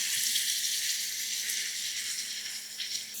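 Water poured into a hot cooking pan holding a paste, a steady hissing splash that stays fairly even and moderately loud, with no voices.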